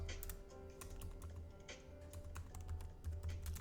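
Quiet computer keyboard typing, a steady patter of individual keystrokes at close range with no talking.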